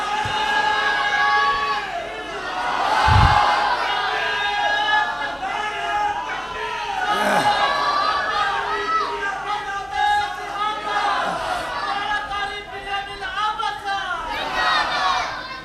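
A large gathering at an Islamic religious talk chants slogans together in loud, rhythmic unison, voices swelling and overlapping in waves throughout.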